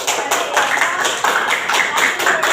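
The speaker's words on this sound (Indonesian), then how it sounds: "tepuk tangan untuk sekali lagi" Classroom applause from high school students: brisk, steady clapping throughout, fairly loud and close, with a roughly even pulse of claps and no talk over it.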